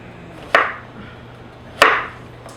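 Onions cut into big pieces on a cutting board for an Instant Pot chuck roast, two sharp knife chops about a second apart, each with a short ringing tail, close and clear over quiet room hum.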